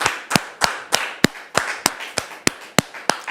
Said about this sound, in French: Merci, très cher public, de recevoir notre invité avec vos applaudissements